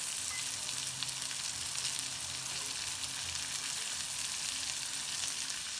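Diced onion frying with bacon in a pan, a steady, dense sizzle that holds evenly throughout, close by and moderately loud with no pauses.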